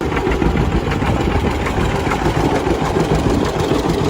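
A 2008 Kawasaki KLR650 motorcycle runs with a steady, rumbling engine note, loud and close, its pulsing throb continuing evenly with no voices.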